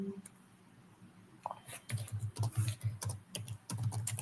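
Keys clatter in quick irregular bursts on a computer keyboard as someone types a short search phrase into a texture field, close and fairly crisp after a quiet start.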